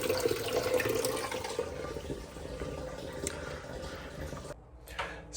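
Water from a tap runs with a steady hiss and trickle after a filter has been refitted, flowing weakly, then cuts off abruptly near the end, followed by a couple of faint clicks.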